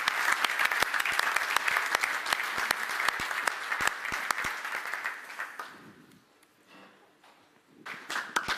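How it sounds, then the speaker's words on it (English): Loud, crisp applause with sharp individual claps greets driver Lucas Di Grassi at the Audi Formula E team presentation, dying away after several seconds before a brief burst returns. "Huge round of applause."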